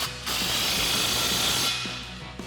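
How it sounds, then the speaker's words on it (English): A 15 mm socket on a ratchet clicks rapidly in a continuous burst while tightening an exhaust clamp on an F-150, close and fairly loud, then slows to a few separate clicks. "We'll grab our 15 mil socket and tighten down our clamp."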